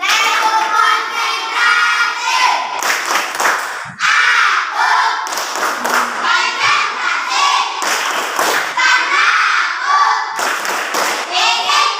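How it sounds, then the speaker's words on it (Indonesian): A primary school class performs a concentration clap, children clapping together in loud, patterned bursts with short pauses between phrases, close and crowded in a classroom. "kemudian di tepuk konsentrasi"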